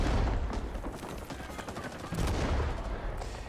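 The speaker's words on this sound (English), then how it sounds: "Yeah, I'm getting shot at, as you can see." Rapid bursts of gunfire crackle through a Rising Storm 2: Vietnam firefight, loud and dense, with a heavier stretch of shots partway through and a few voices faintly in the mix.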